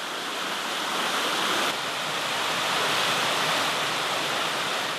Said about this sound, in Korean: 저렇게 아주 멋진 폭포도 보이고